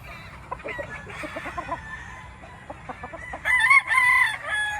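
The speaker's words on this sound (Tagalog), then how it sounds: "Laking manok." A large golden boy rooster from a gamefowl breeding farm clucks in short bursts, then lets out a loud, close crow near the end.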